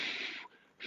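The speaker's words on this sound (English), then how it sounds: "what you do is you just keep breathing out" A person doing a breathing exercise pushes air out forcefully, two close, loud hissing exhales with a short pause between them, no talking.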